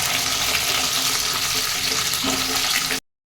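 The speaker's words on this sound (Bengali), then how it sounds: "যে এটাকেও অল্প ভেজে নেবো" Capsicum squares and onion petals fry in a pan for chilli chicken, giving a steady, loud broadband sizzle that runs unbroken for about three seconds before cutting off.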